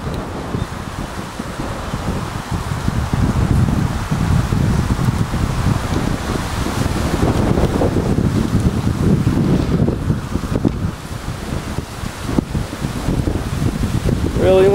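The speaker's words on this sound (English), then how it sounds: "Really windy." Strong wind on Wake Island roars and buffets the microphone continuously, a dense rumbling gust noise with no pauses, close and loud throughout.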